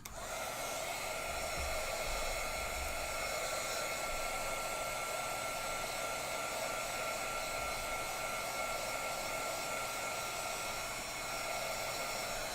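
A heat dryer blows steadily on the back of a stitching project, a constant close airy roar with a faint whine that holds evenly from start to end.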